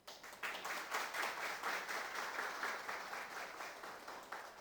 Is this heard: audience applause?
yes